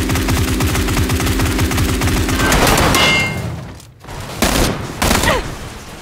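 Loud, rapid automatic gunfire in PUBG, a dense rattling burst that cuts off, followed by a few separate heavy shots nearby.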